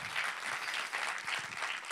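Thick, continuous applause from an audience at a community team gathering in the Altivole and Montebelluna area of Italy, steady and fairly close throughout the short stretch.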